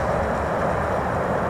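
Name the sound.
train passing in the distance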